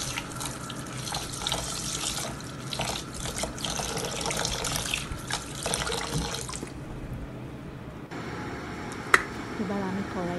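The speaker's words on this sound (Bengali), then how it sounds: "এবার আমি চালগুলোকে সুন্দর করে ধুয়ে পানি ঝরিয়ে রেখে দেব" Basmati rice is washed under a running tap in a kitchen sink: a steady close stream of splashing water for several seconds, then quieter trickles and drips with a single sharp clink.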